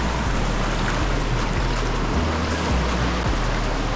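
The Huai Nueng waterfall in Thailand pours in a steady, loud, broadband rush of falling water that fills the whole clip without pause and without any talk.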